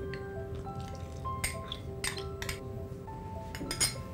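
A utensil stirs a corn flour and water mixture into boiling milk in a pan for saffron pistachio kulfi, giving light metallic clinks and scrapes at irregular moments over a soft simmering background, close and fairly quiet.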